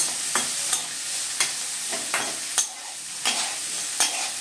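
Bitter gourd slices fry crisp in oil in a pan, a constant close sizzle broken by regular scraping stirs about every three-quarters of a second, no voices.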